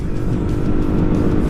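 A motorcycle fitted with a Qala Performance racing exhaust accelerates hard in third gear, giving a loud, steady, close engine roar that holds throughout.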